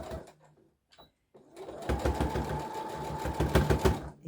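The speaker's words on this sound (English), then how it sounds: "I'm just going to sew through the elastic on the waist" A sewing machine stitches through elastic on a jumpsuit waistband, starting after a quiet pause with a close, rapid rhythmic clatter of needle strokes that runs steadily to the end.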